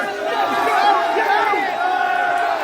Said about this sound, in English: You hear the Muslims cheering?